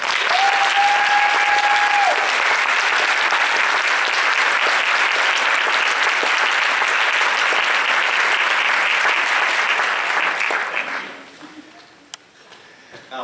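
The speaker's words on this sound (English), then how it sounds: "Please give these students a round of applause." Sustained audience applause for students at a school Christmas band concert, a dense steady clapping from a full hall lasting about ten seconds before tapering off into quiet room sound.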